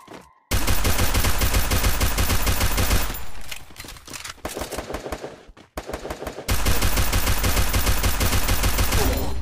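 Automatic gunfire in the Garena Free Fire mobile battle game: loud, rapid, continuous bursts with a short broken gap of scattered shots midway before sustained firing resumes.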